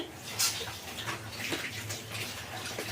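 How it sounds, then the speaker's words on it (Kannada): Soft, continuous bubbling and rushing of water boiling in a pot for noodles, fairly faint, with a few light clicks and pops. "ಈಗ ನೀರು ಕುದೀತಾ ಇದೆ"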